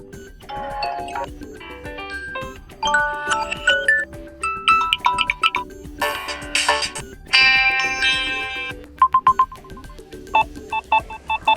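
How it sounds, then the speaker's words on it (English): Samsung Galaxy A3 Core phone ringtone preview looping: a string of bright electronic chime melodies and beeping tone bursts, some sustained and some quick staccato, played clearly with no talking. "after you select the ringtone, you will have the preview of it. Basically, it will play in loop."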